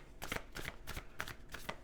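Animal spirit oracle cards being shuffled by hand, a quiet series of soft rapid riffling bursts at an even rhythm, close and alone without talk.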